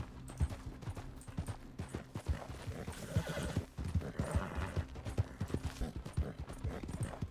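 In the video game RedM, a horse's hooves clop in a steady, fairly close rhythm, joined by a neigh and whinny partway through, with no talk.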